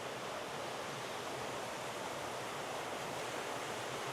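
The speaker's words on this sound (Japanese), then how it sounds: "こちらでも湯滝が豪快に流れてます" Hot spring water cascades into an all-Hiba-wood indoor onsen bath at Shirabu Onsen in Yamagata, making a steady, dense rushing roar that fills the space without a break, close and loud, with no voices.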